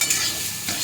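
Papaya and capsicum sprinkled with pepper powder fry in a pan, making a brief, close, steady sizzle while being stirred, with a faint scrape partway through.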